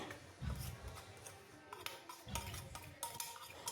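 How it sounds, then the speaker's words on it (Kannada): Spoon scraping and clinking in a bowl while rice flour is stirred into ghee and oil for palak chakli, irregular close metallic taps and scrapes with short pauses. "ಅದಕ್ಕೂ ಸ್ವಲ್ಪ ಅಕ್ಕಿ ಹಿಟ್ಟು ಹಾಕ್ಕೊಂಡು ಮಿಕ್ಸ್ ಮಾಡ್ಕೊತಾ ಇದ್ದೀನಿ"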